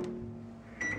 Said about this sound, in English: Then I pop them in the microwave.